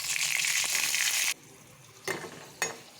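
Hot oil sizzles loudly as dry chilies, green chilies and spices fry, a steady frying hiss that stops abruptly, followed by two short bursts of sizzling as the pan is stirred.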